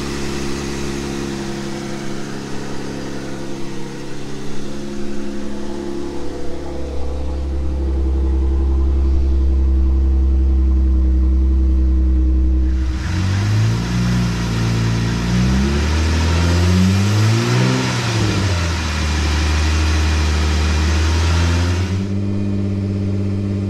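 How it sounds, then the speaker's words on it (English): A Jeep engine fires up and settles to warm up after a thermostat replacement, a steady close running drone that swells into louder revving midway before easing back to idle. "Let's fire the car up,"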